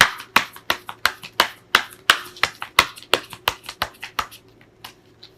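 Tarot cards are handled and laid down on a table: a rapid series of sharp, close slaps and snaps at a steady rhythm that thins out and softens toward the end.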